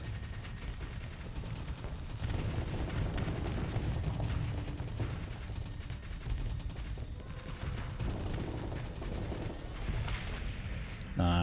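Heavy Hellbore cannon fire from ships in the space combat game Starsector, a dense continuous roar of booming shots and impacts rumbling throughout.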